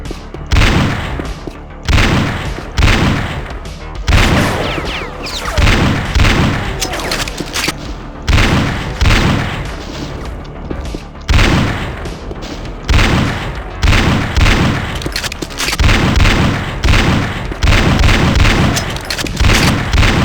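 An AK-47 in a Doom WAD mod fires loud, booming, rapid volleys in repeated long bursts separated by short gaps, with heavy low thumps and crackling over a steady game ambience.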